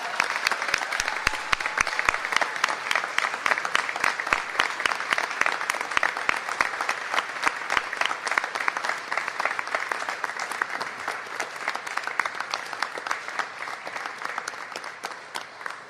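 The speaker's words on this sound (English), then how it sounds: "Okay, now we can get a nice clap, a round of applause for everybody." A large audience at a church youth listening session bursts into sustained, dense applause that continues evenly at full strength for the whole stretch, with no talk over it.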